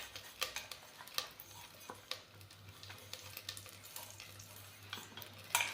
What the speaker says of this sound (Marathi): आपण कढीपत्ता टाकली त्याला चांगला तळी देऊ